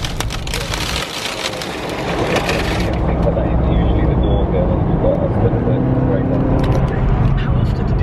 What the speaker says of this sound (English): Really nasty, loud sounding salt, like it's been sandpapered.